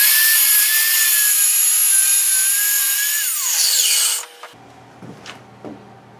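A Grizzly track saw rips through plywood raised on scrap pieces, a loud, steady high-pitched whine that drops in pitch as the motor spins down after about four seconds, followed by a few faint knocks.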